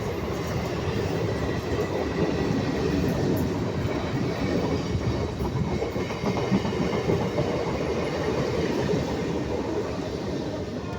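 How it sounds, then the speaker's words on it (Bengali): A local train rumbles past up close, steady clattering wheels and broadband roar throughout, with no voices. "লোকাল ট্রেন যাচ্ছে।"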